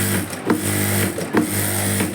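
Sewing machine running a continuous stitch along the side seam of a kameez, a steady close mechanical hum with brief pauses.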